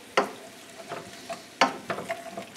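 Food sizzles in a hot pan while being stirred, quiet frying hiss punctuated by a few sharp scraping stirs and spatters, close-up with no talking.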